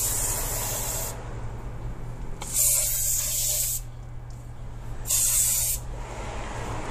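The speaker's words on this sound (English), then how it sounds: "I get some brake cleaner and just liberally spray all over the rotor" Two bursts of brake cleaner aerosol spray onto a brake rotor hiss loudly over a constant low mechanical hum, each lasting about a second or more, separated by quieter stretches.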